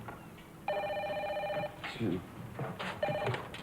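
Telephone bell ringing indoors, two electronic ring bursts of about a second each separated by a pause, moderately loud, with people talking around them.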